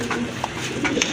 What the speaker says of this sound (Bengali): এটা হচ্ছে রেড মুখী কবুতর